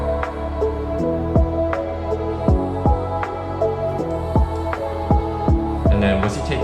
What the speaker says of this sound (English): then I take away the bells and I add the strings.